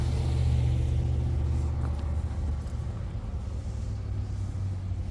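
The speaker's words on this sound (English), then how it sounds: "There's another car that's gonna pass" A car passes along a street in Nelson near City Hall, a steady low engine and tyre rumble that swells slightly and then eases, with no voices.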